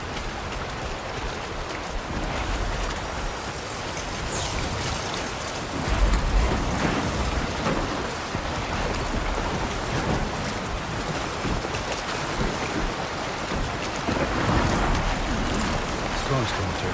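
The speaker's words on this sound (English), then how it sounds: "Storm's coming through." Rain and a thunderstorm in the video game Death Stranding 2, dense steady rainfall with low rumbles of thunder, loud and continuous, under occasional voice.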